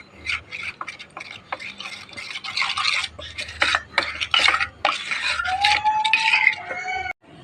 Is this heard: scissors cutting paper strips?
no